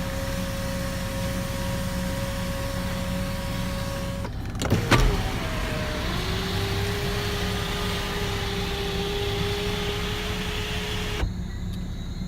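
Electric third-row seats in a Range Rover Sport deploying, a steady motor whine running for several seconds after a click and thump inside the car, then stopping abruptly.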